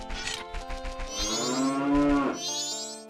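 A cow at Romani Ranch in the video game Majora's Mask lets out a couple of drawn-out, close, resonant moos with no talk over them.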